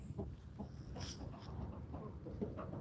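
Backyard chickens pecking at watermelon, making soft, scattered clucks and short calls over a quiet outdoor hum, fairly close and gentle, with no one speaking.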